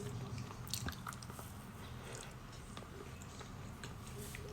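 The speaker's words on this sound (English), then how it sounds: "The icing's gone a bit crisp on the top. Gives it a lovely like crunch, sugary crunch." Close, quiet biting and chewing of a lemon and raspberry cake with crisp sugary icing, soft crunches and moist squishes in a steady irregular rhythm, no talking.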